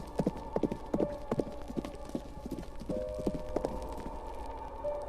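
Horse hooves clip-clop in a steady walking rhythm as a horse carries two riders into a snowy winter night in Iceland, the hoofbeats close and clear over a low background hum.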